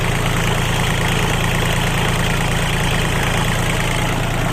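A used 2008 Kubota L2808 tractor's diesel engine idles steadily and close by, parked in front of a shop, with an even continuous chug and no talking.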